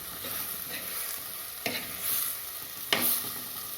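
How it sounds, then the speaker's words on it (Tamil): Eggs being sautéed in a village-style egg kurma in a pan give a steady close sizzle, with two sharper spoon scrapes against the pan partway through. "முட்டையை சேர்த்துட்டு இப்போ வதக்கணும்."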